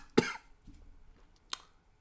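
A person coughs once, sharp and close, then a fainter throat-clearing sound follows about a second later over quiet background.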